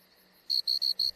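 Cricket chirping in a cartoon, four short bright chirps in a steady rhythm, clear and close after a faint quiet start, with no talk over them.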